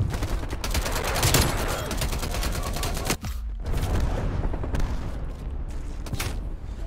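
Shotgun fire in Call of Duty Cold War multiplayer, rapid repeated blasts in a dense, continuous barrage with no talking over it.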